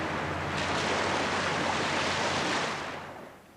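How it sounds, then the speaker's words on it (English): Lake Erie waves pound against the shore in a dense, continuous roar of surf that stays loud and steady before easing off at the end, with no voices. "As Erie pounds against the shore"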